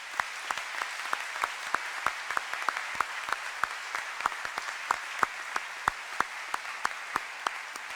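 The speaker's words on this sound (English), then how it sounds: "could I get a round of applause for the teachers that have cared for this group along the way?" Graduation ceremony audience applauding the teachers, steady distant clapping with sharp individual claps standing out, fairly quiet and continuous throughout.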